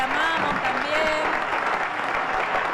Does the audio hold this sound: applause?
yes